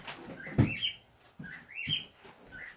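Indoor pet birds chirp and tweet in short bright calls and whistles, repeated a few times at moderate distance, fairly faint, with no talk.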